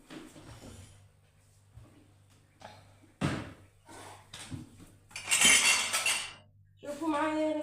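Dirty dinner and breakfast dishes are washed in a home kitchen: plates and cutlery clink and clatter in irregular bursts, with running water rushing briefly and a louder clank near the middle.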